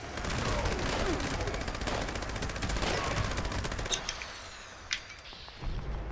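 Rapid automatic gunfire from a weapon in the video game Fallout 76 rattles continuously at close range, then breaks into a few scattered single shots and fainter bursts.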